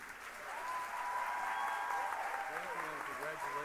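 Audience applause at an awards ceremony honoring a Teacher and Teacher Assistant of the Year, a steady round of clapping that swells after the first half-second and holds at an even level throughout, with talk faintly mixed in.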